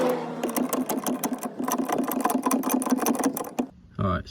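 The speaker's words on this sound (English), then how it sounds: "Alright, so we jack that up, got it roughly into place." A jack raises the suspension arm of a Porsche 924 during a coilover install, giving a rapid run of regular mechanical clicks and rattles that stops after about three and a half seconds before a brief voice is heard.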